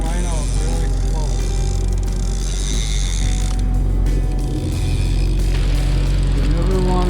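Ratcheting clicks of a fishing reel's loosened drag as 30-pound seven-strand wire line pays out slowly on a salmon boat, a steady mechanical whir and tick running throughout under a low engine drone.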